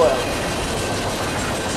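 A Triple Crown RoadRailer freight train led by locomotive 4001 rumbles past on the Wabash line near Detroit, a steady close rolling rumble with a brief squeal at the start and speech alongside.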